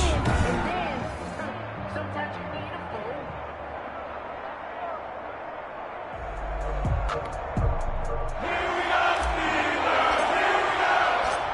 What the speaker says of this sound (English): This crowd is ready as their guys get set to match up between the Washington football team and the Pittsburgh Steelers.